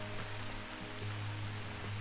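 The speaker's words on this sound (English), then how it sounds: "I just can't hear him anymore because of the stupid rain." Steady rain falling in woodland, a dense, even hiss of drops on leaves and ground with a low hum underneath, continuous and moderately loud throughout.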